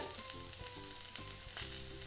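Okra sizzles steadily as it sautés in a hot pan, a constant crackling hiss with a faint hum underneath, close by.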